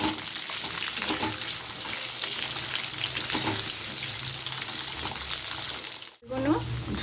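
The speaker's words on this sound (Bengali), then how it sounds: "আমি আলুগুলোকে আগে প্রথমে ভেজে নেব, ভালো করেই লাল করে নেব।" Potatoes fry in a pan with a continuous sizzle and crackle, interrupted by occasional stirring, while a voice talks over the cooking; the sound briefly drops away near the end before resuming.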